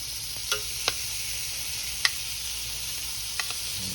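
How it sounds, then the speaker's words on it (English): Shrimp sizzle quietly in a grill pan with a steady soft frying hiss, broken by a few faint clicks and taps from utensils. "we're going to put these shrimp right in here, y'all. They ain't going to take long at all, y'all. We're just going to grill them off here"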